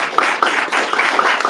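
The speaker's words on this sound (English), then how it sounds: "Give her one more round of applause" An audience applauds a storyteller at a live storytelling event: steady, dense clapping from many hands, fairly close and loud, running throughout with no talk over it.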